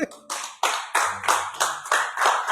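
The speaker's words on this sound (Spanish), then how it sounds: "Dale palmas al que..." A church congregation claps in unison at a brisk, steady beat, about eight sharp, loud claps in a row.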